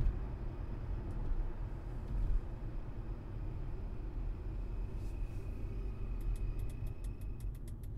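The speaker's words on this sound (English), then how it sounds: "Well, another logging truck with chips." A logging truck hauling wood chips passes on a road, heard from inside a moving 2003 Audi Allroad. A steady low rumble of road and engine noise runs throughout, with faint high ticking toward the end.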